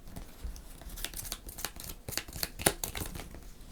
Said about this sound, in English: so we'll shuffle these up